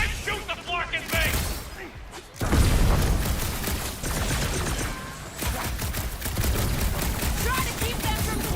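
Gunfire crackles through a busy combat scene in Marvel's Guardians of the Galaxy, mixed with rapid mechanical clatter and heavy impacts. Characters shout over the fighting.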